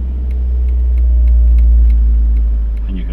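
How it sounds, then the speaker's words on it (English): A car engine idles after being brought up to about 2000 RPM during diagnostic testing, its steady low rumble easing off as the revs drop, close and loud with no talk. "and you can hear the engine going down."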